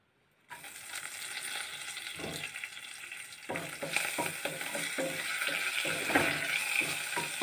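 Hot oil sizzles steadily in a pan as dal ma is being cooked, a continuous close frying hiss with brief bursts of spattering and stirring.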